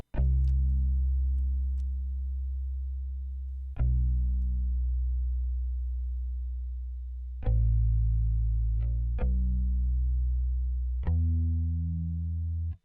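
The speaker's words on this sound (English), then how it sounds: "then we have the bass from Contact Rickenbacker bass" Contact Rickenbacker bass notes processed with OTT compression, reverb and highs cut by EQ, deep sustained plucks sounding one after another at a slow pace, each note ringing out before the next, alone and fairly loud.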